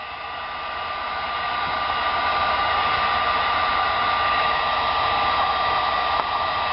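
A heat gun blows steadily and loudly on the vinyl tint film wrapped around a 2015-2017 Mustang tail light lens, a continuous airy roar that holds at full level for the whole stretch with no voices.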